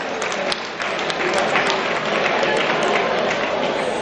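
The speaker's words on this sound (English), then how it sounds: "Let's give him a round of applause." An award-dinner audience applauds for a guitarist, a dense, steady burst of clapping from a room full of people lasting the whole moment.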